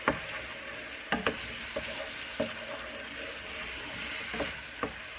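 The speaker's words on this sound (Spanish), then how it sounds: "Revolvemos bien" Six eggs frying and being stirred in a pan, steady sizzle with repeated light scrapes and taps of a utensil, close up and fairly quiet.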